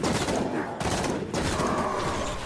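Rapid automatic gunfire rattles continuously from an online shooter video game like Halo, dense and loud with a brief break partway through.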